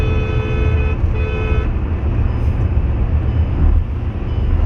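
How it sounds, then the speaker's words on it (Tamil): Kia Seltos HTK Plus SUV cruising at 140 km/h in sixth gear, a steady loud cabin roar of engine, tyres and wind with a faint tonal whine early on, constant throughout. "6th கியர் டாப் கியர் போட்டிருக்கேன், நல்லா மெதிக்கிறேன். 140 போகுது."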